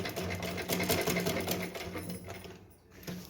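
A sewing machine runs in a fast, steady rattle as it stitches a Janmashtami dress for a Laddu Gopal idol, close and continuous, then slows near the end.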